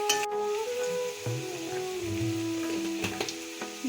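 Taro stems fry in a pan with a steady sizzle, while a utensil stirs them and occasionally taps and scrapes against the metal.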